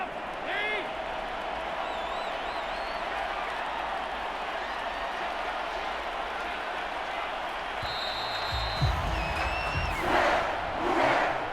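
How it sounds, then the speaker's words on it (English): Home stadium crowd at a Broncos at Saints American football game simulated in Madden 23, a steady dense wash of applause and cheering throughout, swelling louder near the end with a commentator's voice over it. "And the home crowd applauding."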